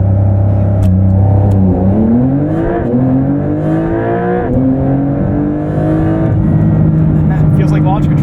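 A 2023 Porsche 911 Dakar launches on the road using its rally-mode launch control. The engine revs loudly and climbs in pitch through several rising sweeps with distinct gear-change breaks. The close, continuous interior roar runs throughout.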